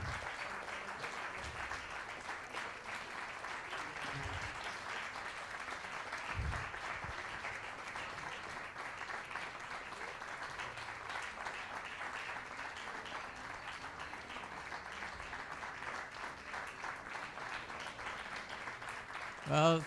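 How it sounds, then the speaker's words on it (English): An audience at a Bali puppetry festival and seminar applauds after a Senawangi performance, a steady, moderately faint wash of clapping that carries on for around twenty seconds, with some talk mixed in. "Let us give a big applause again."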